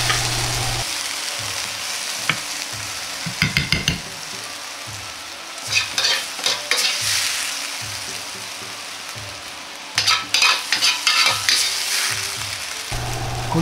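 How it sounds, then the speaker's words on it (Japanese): Chikuwa pepper steak stir-fried over high heat in a wok, a steady loud sizzle with bursts of tossing and clattering ingredients throughout, no talking. "最後に強火で軽く炒めれば完成です。"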